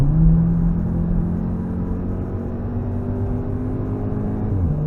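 A steady, loud engine drone holds a constant high-revving pitch at full throttle on the Nürburgring Nordschleife, heard from inside the car with no talking.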